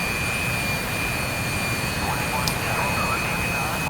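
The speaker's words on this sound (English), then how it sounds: "Spooling up both engines" Twin engines of an F-16 fighter jet spool up in a steady, loud, continuous broadband roar with a thin high whine, heard close from the cockpit.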